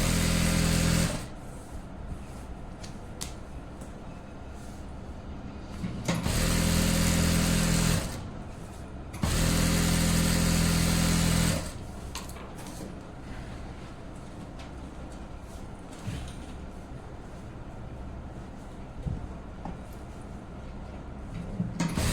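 A sewing machine top-stitches trousers, its motor whirring steadily and then surging into two louder sustained bursts of fast stitching, with no voices.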